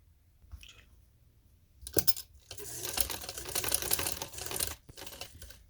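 A sewing machine stitching trouser fabric with a needle carrying two threads, short bursts of rapid mechanical clatter between quiet pauses, close and fairly loud.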